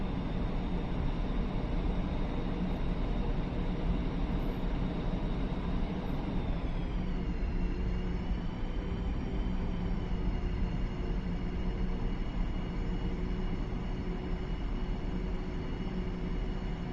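An F-5 jet in the DCS flight simulator taxiing, a steady loud turbine whine and rumble whose pitch dips and settles partway through, with no voices.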